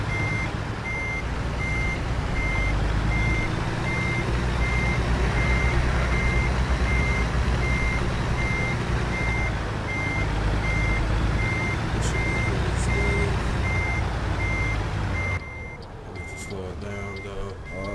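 A truck's reversing alarm beeps steadily and rhythmically over a loud diesel engine rumble in American Truck Simulator, continuing for most of the stretch before the engine noise drops off near the end.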